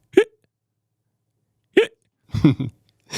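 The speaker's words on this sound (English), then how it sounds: "What's chronic hiccups? They won't go away." Chronic hiccups from someone across a hall, three sharp, isolated hiccups spaced well apart, loud and close, with a brief burst of voice near the end.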